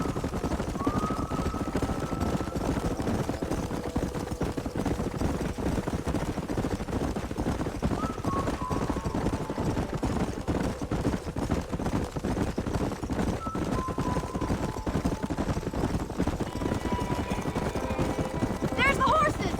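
Horses run in a Red Dead Redemption game scene, with steady hoofbeat clatter under continuous talk and background music or wind, along with an occasional whinny.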